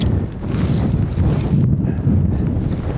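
Wind of 60 mph plus buffets the microphone in a steady low roar around a Hilleberg Soulo tent, gusting loudly throughout with no voices.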